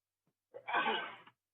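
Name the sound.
sneeze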